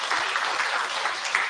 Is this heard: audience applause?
yes